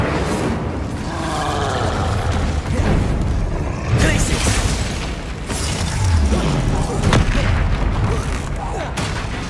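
Confringo fire-blast spell explosions in the Hogwarts Legacy video game, a dense run of booming bursts and crackling impacts repeating every second or two, loud and continuous with battle effects layered throughout.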